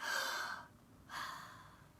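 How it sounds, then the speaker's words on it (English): Two deep, calming breaths, each a close, airy rush separated by a brief pause, heard alone and quietly. "You can take 5 deep breaths and clear your head."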